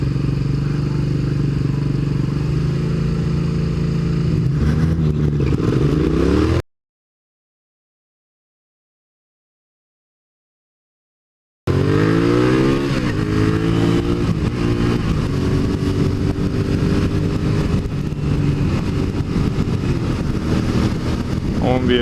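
A Honda vehicle revs and accelerates close by on a road, a loud engine drone with rising pitch sweeps. Before and after a gap of silence, the engine runs steadily under wind noise.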